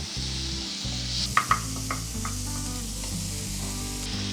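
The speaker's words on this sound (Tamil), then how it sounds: "கொஞ்சம் வதங்கிடுச்சு வெங்காயம் தக்காளி." Onion and tomato sauté in a pan for drumstick egg masala with a loud steady sizzle close by, broken by a few soft spoon scrapes and a low humming drone underneath.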